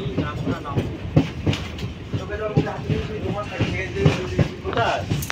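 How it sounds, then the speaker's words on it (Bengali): A local train runs from Kolkata toward Namkhana, its wheels giving a steady, rhythmic clickety-clack with carriage rumble and rattling throughout, loud and close as if heard from inside the coach. "আমাদের ট্রেন শহর কলকাতার নাগরিক কোলাহলকে পিছনে ফেলে নামখানার দিকে ছুটে চলল"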